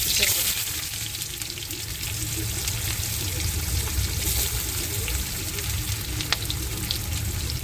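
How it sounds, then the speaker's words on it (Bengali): Chopped onion hitting hot oil in a wok over cumin seeds, giving a steady broadband sizzle and crackle that runs close and even throughout with faint clinks now and then. "ওখানে আমি এখন দিয়ে দেবো পেঁয়াজ"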